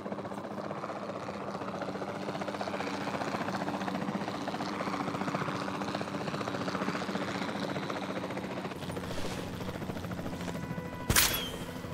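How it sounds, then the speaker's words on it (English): Helicopter rotor drone in Jurassic World Evolution 2 during a dinosaur tranquilizing flight, a steady continuous whir throughout, ending with a sharp loud burst near the end. "We'll start by tranquilizing one of the dinosaurs from the helicopter"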